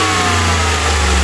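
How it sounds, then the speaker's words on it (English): A 2011 RAM 1500 with a 5.7L HEMI V8 and a cylinder 1 ignition coil that keeps shorting, snapped to wide open throttle: a loud, steady engine roar with strong low harmonics that holds for the whole moment, no talking. "A wide open snap throttle"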